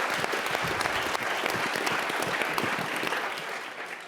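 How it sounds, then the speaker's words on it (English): An audience at a session on America's role in the world and presidential elections claps steadily. The applause is full and even, then tapers off toward the end. "I'm going to clap for that."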